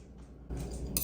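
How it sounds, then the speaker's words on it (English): A knife and fork scrape and clink against a plate while cutting into a steak grilled in cast iron, a couple of short metallic strokes heard close up and fairly quiet. "Cut open that steak"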